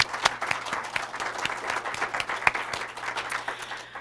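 An audience at a school board recognition event claps for spelling bee participants. The applause is steady and moderately distant, with dense overlapping hand claps and a few sharper claps standing out over about four seconds.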